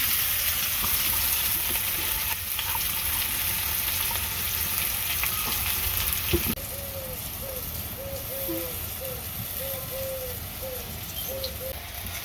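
Eggplant frying in a pan with a steady, close sizzle and crackle of hot oil that runs throughout. Repeated bird calls or pigeon cooing can be heard in the background during the second half.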